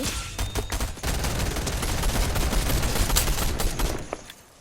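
Fortnite gunfire rattles in dense, rapid bursts of sharp cracks that pile into a nearly continuous barrage, loud and close, then cut away at the end.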